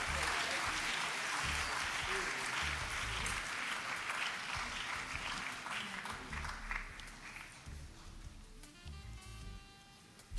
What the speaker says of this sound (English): Let's give Miss Charlton a round of applause.